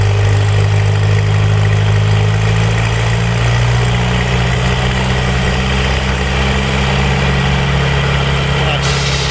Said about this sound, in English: He's got to kick it up to full idle to get the saw blade to turn.